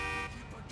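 A car horn blares in Grand Theft Auto IV, one sustained tonal honk at the start that cuts off quickly and gives way to muffled game ambience.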